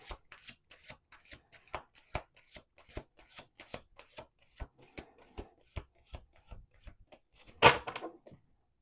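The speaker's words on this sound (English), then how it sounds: "one more shuffle" A deck of cards shuffled repeatedly in quick riffling bursts, ending with one louder, fuller riffle near the end; close and clear, no voices.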